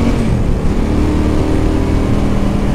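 A Ducati 916 motorcycle pulls from low revs on a dusty, muddy country road, its engine a steady, loud, close drone that rises slightly as it accelerates, with constant wind and road rumble mixed in and no speech.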